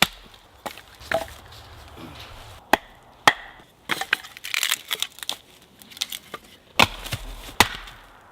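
An axe chops a big log outdoors in autumn woods, landing sharp, loud, irregularly spaced strikes with splintering, crackling wood between blows.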